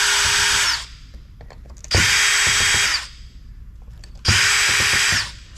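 Power drill backing screws out of an old, grimy computer case, three separate whirring bursts of about a second each with short pauses between them, loud and close with no talking.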